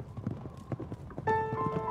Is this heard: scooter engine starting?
no